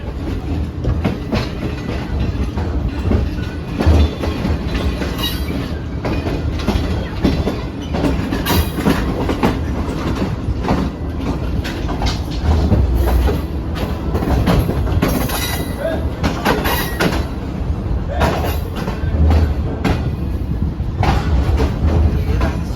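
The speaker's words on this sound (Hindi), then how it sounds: "हैदराबाद से हमारी ट्रेन रवाना हो चुकी है" Shalimar Express passenger train running from Karachi toward Lahore, heard from inside an AC Standard coach: a loud steady rumble with continuous clickety-clack of wheels over rail joints and occasional faint squeals.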